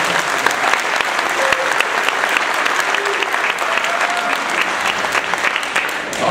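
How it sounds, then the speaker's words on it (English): A crowd at a youth football camp gives loud, sustained applause for the camp counselors, dense clapping filling the space evenly for the full stretch, with occasional faint voices under it. "Please give them a round of applause."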